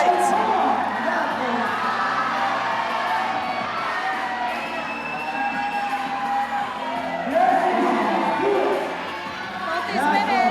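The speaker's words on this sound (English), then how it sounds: "Getting the crowd psyched." Crowd at a USA Climbing National Cup bouldering competition cheering and whooping loudly throughout, with swells of shouts near the start and end while a commentator talks over it.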